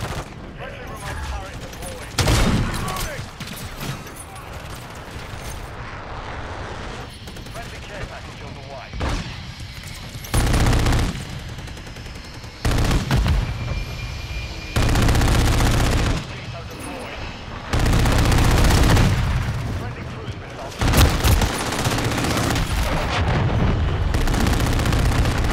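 Sniper fire and other weapons crackle in a multiplayer video game, several loud bursts and booms breaking out at irregular intervals over continuous game noise, with a voice talking at times.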